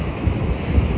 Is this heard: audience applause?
no